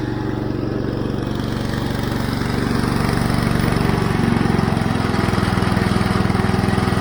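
An IH Cub Cadet 149 garden tractor engine idles steadily and close by, a continuous low chugging rumble that grows slightly louder toward the end, with no voices.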